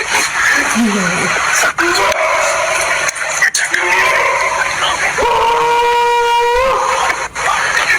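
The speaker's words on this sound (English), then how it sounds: "they started hearing these strange, intimidating, I guess you could call them howls" Strange, intimidating howls ring out in woodland, long drawn wavering cries with rising and falling pitch, loud and close, over a background of voices and rustling.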